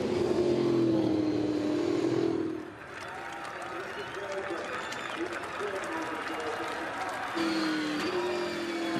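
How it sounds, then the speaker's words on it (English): V8 Supercars race at Pukekohe during the 2013 Auckland 400, engines roaring loudly at first, then a broad, steady crowd-and-track wash that swells again near the end. "you can hear the crowd roar over that unbelievable and unmistakable sound of a V8 supercar"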